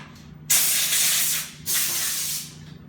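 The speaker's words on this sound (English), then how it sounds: "Hit it with the air hose here." An air hose blows compressed air over a Stew Mac Mini T guitar kit in two loud, close bursts of sharp hissing, the first longer, the second following a short gap, over a low background hum.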